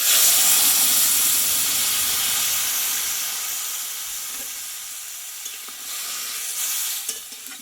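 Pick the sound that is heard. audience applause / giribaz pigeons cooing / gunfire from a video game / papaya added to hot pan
papaya added to hot pan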